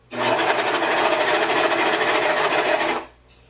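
A serger sewing machine runs steadily for about three seconds, its cutting knife disengaged, stitching a fabric seam through stabilizer interfacing on a dog bandana. The motor hums with a rapid needle chatter, loud and close, then stops abruptly.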